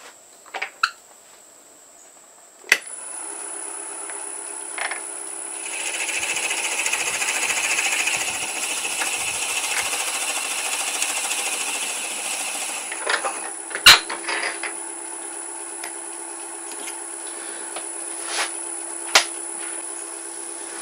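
Wood lathe spinning a button style Christmas ornament while a 15/16 inch Forstner bit bores into it, a sustained mid-pitched whir and grinding that builds then eases, with scattered knocks and clicks.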